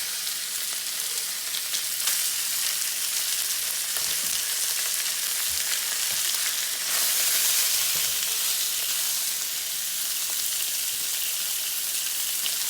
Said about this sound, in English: And then we'll toss in our pork.